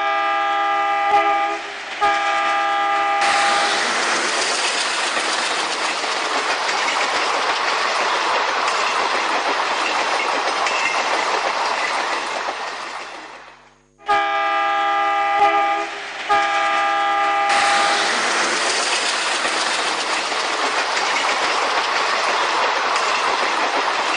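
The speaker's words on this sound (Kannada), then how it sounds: "ಟ್ರೈನ್ ಪಾಸಾಗಿ ಹೋಗುತ್ತೆ" A train rolls past with loud, sustained rumble and clatter across the whole stretch, its horn sounding in two long blasts separated by a brief dip in noise; no talking.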